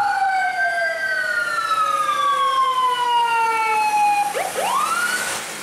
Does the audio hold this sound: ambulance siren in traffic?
yes